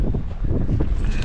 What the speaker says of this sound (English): But it seems the story of the day, once again, is the wind.